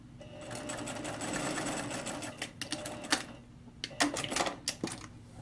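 Sewing machine stitching a quarter-inch fabric seam with raw edges together, a steady close mechanical whir running throughout with short stop-start bursts of needle clatter toward the end.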